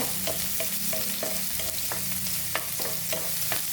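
Steady hissing sizzle of fish frying in hot oil, with occasional clinks of a utensil stirring in the pan.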